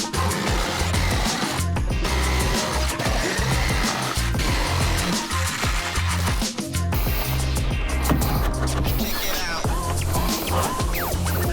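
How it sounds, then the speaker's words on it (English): A jigsaw fitted with an aluminium-cutting blade saws through material while installing a boat hatch, a loud, continuous buzzing rasp with shifting pitch and brief pauses throughout. "I've got the jigsaw out. Got an aluminium jigsaw piece on there to cut."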